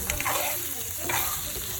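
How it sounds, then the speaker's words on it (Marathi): Mutton fries on a tawa with a loud, close sizzle, while repeated stirring and scraping strokes come through in uneven bursts. "इथे आपले गरमागरम मटण तवा फ्राय झालेले आहे"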